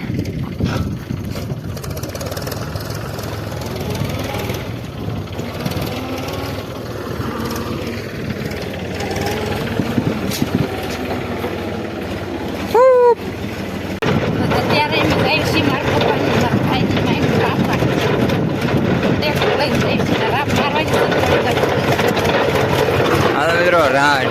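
A tractor engine runs steadily while pulling a trolley loaded with harvested groundnuts and reversing toward a house, with a low continuous rumble under frequent nearby talk.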